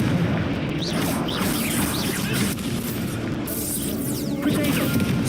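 A fire spell blast in the Hogwarts Legacy video game: loud booming, crashing bursts over a thick rumbling bed, with several sharp hits through the clip and no talking.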